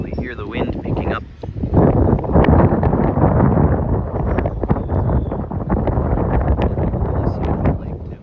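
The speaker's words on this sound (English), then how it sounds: "You can probably hear the wind picking up." Gusting wind outdoors by a lake under darkening skies, a steady broadband rush buffeting the microphone for the whole stretch, with a brief lull near the start, and faint voices underneath.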